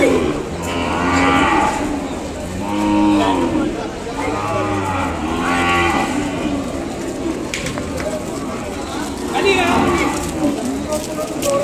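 Ongole cattle low and moo repeatedly at the busy Kodada cattle market, with long, deep, close calls rising and fading while people talk nearby over the crowd noise.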